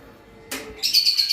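Caged lovebirds giving a quick burst of sharp, high chirps and calls, close and fairly loud, with no voices.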